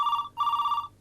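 A telephone rings in a home setting, an expected international call: two loud, close bursts of electronic trilling ring with a brief gap between them, no voices present.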